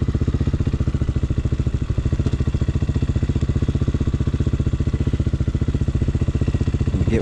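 Small street-legal dirt bike idling and puttering in first gear at low speed, its single-cylinder engine thumping in a steady, even rhythm close by while the rider practices tight U-turns, no talk.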